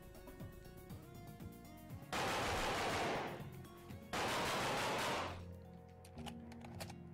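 Two long bursts of rapid automatic gunfire in the 2D shooter game Ballistick, each lasting about a second, separated by quieter game sound and followed by a faint tail, with no talk.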